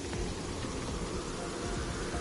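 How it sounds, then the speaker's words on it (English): Steady rain in the video game Terraria, a soft continuous hiss of falling drops with no voices over it. "but it's raining though"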